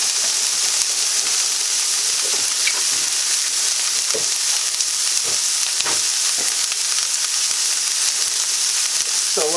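Onions fry in a pan with a steady, close, loud sizzle and hiss that runs throughout, with occasional stirring scrapes and clinks over the frying.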